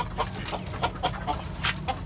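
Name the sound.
chickens clucking on a rooftop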